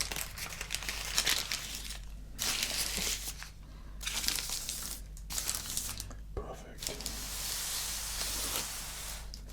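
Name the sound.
crinkling of Subway sandwich wrapping paper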